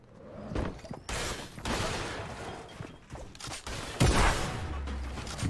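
Rapid gunfire crackles through a video game firefight, several bursts of loud close shots with thuds and impacts between them, without talk.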